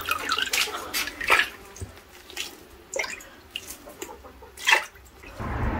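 Water runs and drips from a tap while eggplant is peeled at a kitchen sink, coming in uneven splashy bursts with quiet gaps between them, then a steady rush at the end.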